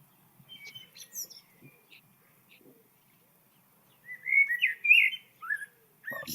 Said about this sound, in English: When we start to think about the blackbird song